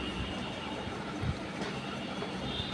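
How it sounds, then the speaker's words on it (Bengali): A steady broadband wash of railway station ambience at Shantipur Junction in Nadia district, West Bengal, India, with a continuous low rumble of trains and rail cars at moderate distance. "এটা শান্তিপুর জংশন রেলওয়ে স্টেশন"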